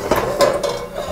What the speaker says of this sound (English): I have to take out the vegetables, move them to another pan